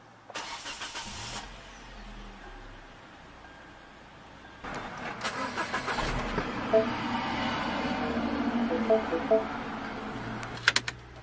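A car engine cranks and catches, then settles into a rumbling idle that holds steady and fairly close, with a brief pause between the first crank and the start.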